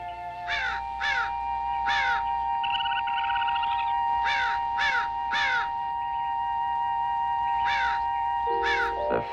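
Crows caw in repeated harsh bursts, grouped in twos and threes with pauses between, loud and near against a steady background hum, with no talk.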